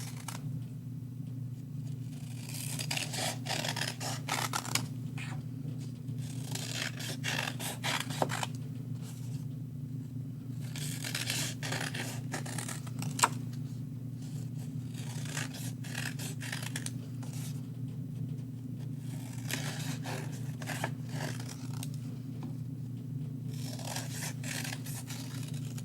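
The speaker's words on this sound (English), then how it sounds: "I'm going to cut out my bigger petals." Scissors cut paper petals in quiet repeated bursts of snipping and scraping over a constant low hum, close and soft, with no talk.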